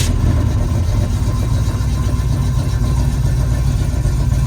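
An Oldsmobile 403 V8 runs with a steady, loud low rumble and a slightly uneven idle lope, continuous and close, with no voices over it.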